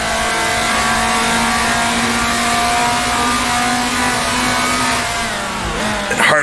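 A 1966 Formula 2 race car at Rouen in Grand Prix Legends, its engine holding a loud, steady high drone before the pitch falls away near the end as the car slows for a corner.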